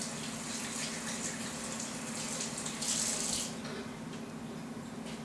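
A kiwi rinsed under a running kitchen tap: a steady hiss of flowing water that briefly splashes brighter as the fruit goes under the stream, over a low hum, with no talk.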